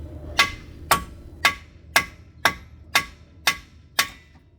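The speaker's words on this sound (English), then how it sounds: "Now I'll use a hammer to carefully knock the steering knuckle while trying to avoid hitting the tie rod end." A hammer knocks a Toyota Highlander steering knuckle loose near the tie rod end: eight sharp metallic blows at an even pace of roughly two per second, each ringing briefly and standing alone without talk.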